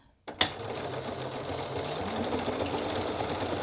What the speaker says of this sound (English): And we're just going to sew